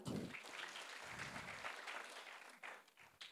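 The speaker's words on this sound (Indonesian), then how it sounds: "Yang mengenal Tuhan, bolehkah tepuk tangan untuk Tuhan?" Church congregation at a GBI Gilgal Manado service claps in praise to God, a short burst of quiet, somewhat distant applause with uneven clusters of claps and brief dips.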